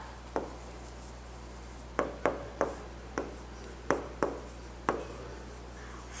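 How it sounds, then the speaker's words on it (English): Pen strokes of an answer being written by hand for a fourth-grade fraction exercise: a scattering of soft, short scratches and taps, irregularly spaced, over a steady low hum with no talking. "So let us write the answer."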